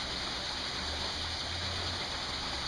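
Water rushing steadily through a gold-prospecting trommel as it washes classified ore, a constant broadband hiss and churn with a low gurgling rumble underneath, continuous and close.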